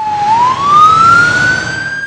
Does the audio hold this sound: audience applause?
no